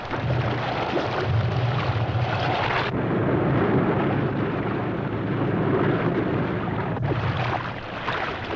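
A loud, steady roar of an airplane engine fills the whole stretch, a broad rumbling drone with a brief dip partway through, from the anime Kyōryū Tankentai Born Free.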